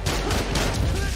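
Rapid paintball gunfire from the video game Spider-Man: Miles Morales, a dense, loud burst of repeated shots close by, mixed with game noise and faint voices.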